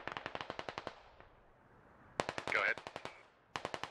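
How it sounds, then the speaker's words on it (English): Bursts of automatic gunfire from an MTLB armored vehicle in the video game Squad, rapid regular shots in several strings with a pause between, and someone briefly talking over the firing. "We're taking MTLB fire directly southeast from precision"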